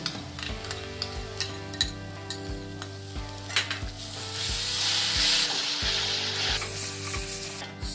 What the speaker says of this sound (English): So we've stirred this on high flame after adding the cabbage.